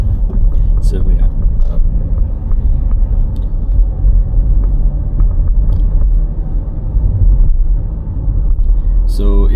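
A car drives through Darmstadt from Eberstadt in the south toward the city center, a steady, loud low engine and road rumble running throughout with little change.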